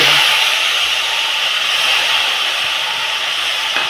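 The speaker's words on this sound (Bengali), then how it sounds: "এই জলটা এখন আমি হালকাভাবে আস্তে আস্তে হাত দিয়ে এভাবে ছিটিয়ে ছিটিয়ে দিয়ে" Water sprinkled by hand onto semolina in a hot pan gives a loud, continuous broadband sizzle and steam hiss that holds steady throughout, close up with no other sounds.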